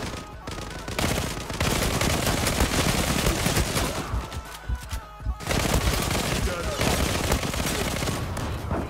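Rapid bursts of automatic gunfire from a fast-firing weapon in the online shooter Zula, loud and continuous with a short break near the middle, layered with in-game effects.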